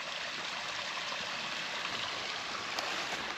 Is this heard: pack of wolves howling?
no